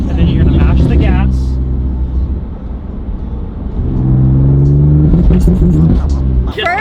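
A tuned BMW M2 Competition with anti-lag revs hard, its deep engine roar rising and falling in two loud sweeps with rumbling pops, close by, while someone talks over it.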